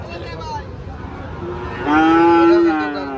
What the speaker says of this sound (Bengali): এটা কিন্তু শাহিওয়াল ষাঁড় বাচ্চা, কালারটা লাল টকটকে কালার।